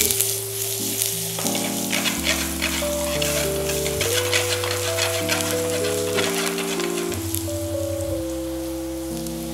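Chopped onion sizzles steadily in a hot pan for a Goan dish, a constant bright frying hiss running under louder, sustained music that plays throughout.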